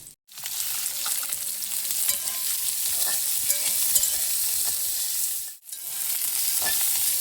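Hot oil sizzles and fries loudly and steadily in a pan while pointed gourd is cooked, with stirring scrapes throughout and two brief dropouts in the sound.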